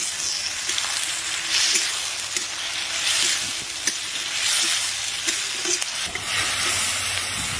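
Tomatoes and onions frying together in a pan for a Maggi dish, a continuous close sizzle with light stirring scrapes and occasional spatters, no voices.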